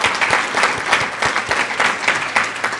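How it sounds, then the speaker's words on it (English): Steady applause from a luncheon audience at a business event honoring Florida's Chief Financial Officer, dense and continuous clapping filling the room at moderate distance, with no voices rising above it. "So if we could have another round of applause for CFO Atwater."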